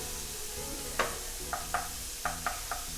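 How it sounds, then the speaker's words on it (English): Soft, continuous sizzle of onions frying for bolognese, with a few light scraping clicks of a utensil stirring in a pan. "you hear that little sizzle. These onions are ready to go crazy in the pan."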